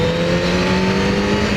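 Engine of a 600cc inline-four sport motorcycle holding a steady, loud, high-pitched drone at sustained revs, close and continuous with no talk over it.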